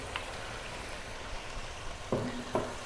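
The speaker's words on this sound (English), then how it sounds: "Now we're going to add in tomato, chopped tomato or timatim." Frying lamb gives a soft, steady sizzle as chopped tomato goes into the pan, with a couple of brief clinks and stirring knocks near the end.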